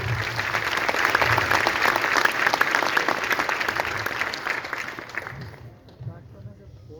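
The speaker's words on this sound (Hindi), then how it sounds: "तो एक बार मेरे दोनों ग्रेट क्लाइंट के लिए जोरदार ताली।" An audience at a business event breaks into loud, dense applause that holds steady for several seconds and then fades out quickly, leaving near quiet.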